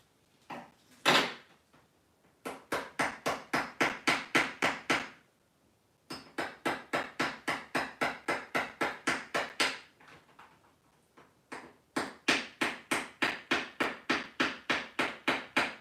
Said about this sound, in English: don't hit them with a hammer or metal because you do split the side a little bit